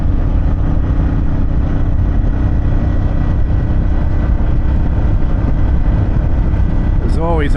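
A 2024 Harley-Davidson Pan America motorcycle with a Vance & Hines Akrapovic exhaust growls steadily at close range, its throttle turned up in a loud, continuous revving drone, with a short rising whine near the end.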